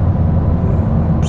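A VW Golf 5 with a 75 horsepower engine drones loudly and steadily from inside the cabin, a constant low rumble that holds throughout, with a brief higher hiss at the very end.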